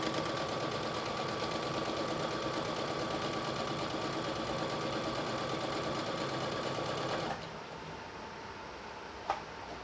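A sewing machine runs steadily as it stitches back and forth across a fabric scrunchie, a continuous close mechanical whir that cuts off near the end, followed by a faint click.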